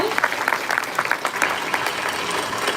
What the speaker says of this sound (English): Another round of applause you want?